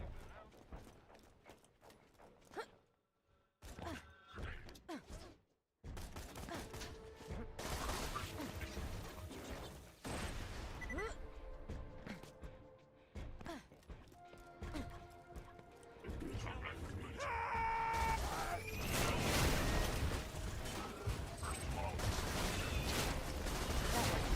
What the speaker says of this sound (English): I'm hearing more gunfire than usual.